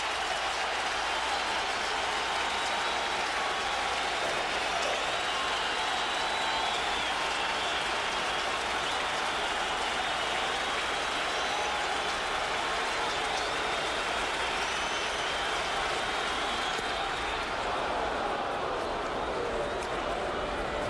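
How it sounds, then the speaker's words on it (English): A baseball stadium crowd cheers and applauds loudly and continuously during a tense extra-inning game, a dense roar that barely wavers, with a commentator speaking over it. "This is as into it as we've heard the crowd here this year."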